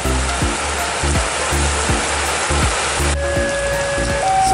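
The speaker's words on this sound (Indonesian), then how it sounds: "disambut hujan" Steady heavy stormy rain hisses throughout, with rhythmic rail clatter from a double-headed CC203 locomotive parcel train thumping underneath and a faint tone joining near the end.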